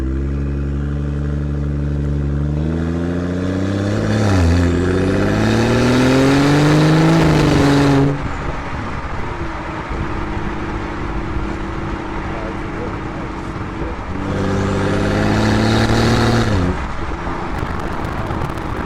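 BMW F10 535i with Valvetronic exhaust, valves open, revving hard twice: loud rising engine roars that climb in pitch and drop sharply, separated by a lower idle rumble, with someone talking over parts of it.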